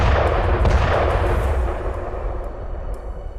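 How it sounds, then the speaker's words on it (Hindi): A tank cannon fires during a NATO military exercise, a loud, deep boom whose rumbling roar slowly fades over a few seconds, with no voices. "गोले बरसाते टैंक"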